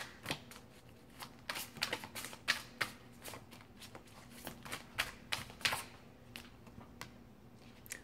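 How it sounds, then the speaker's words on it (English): A deck of psychic tarot cards being shuffled by hand, with crisp riffling bursts repeating in an uneven rhythm, close and clear over faint background hum and no voice. "We're going to pull from these psychic tarot cards."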